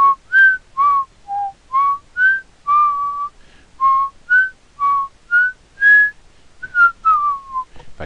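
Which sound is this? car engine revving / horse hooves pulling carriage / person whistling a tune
person whistling a tune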